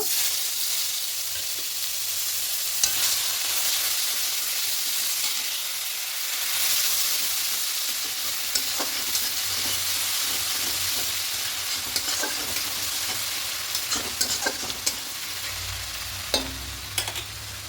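Onion paste frying in oil with a little sugar for a katla fish kalia, a steady close sizzle with intermittent spatula scrapes and small spits over a long unbroken stretch.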